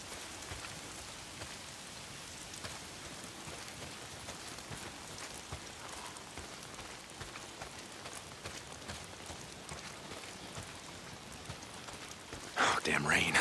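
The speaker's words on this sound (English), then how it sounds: "If it's not the freaks, it's the goddamn rain. Why is it always raining?" Rain falls steadily in the Days Gone video game, a constant close hiss of drops on surfaces that swells abruptly louder near the end, with no talking heard.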